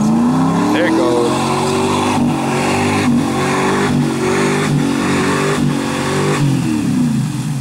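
A vehicle engine revs hard while driving through mud at a pond, loud and near, its pitch rising and falling in repeated surges, with people talking over it.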